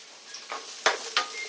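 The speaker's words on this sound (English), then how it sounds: "see as it fries like that?" Food fries in a pan as the heat is turned off, with a soft steady sizzle underneath and a few sharper crackles and pops breaking through, close up and without talk.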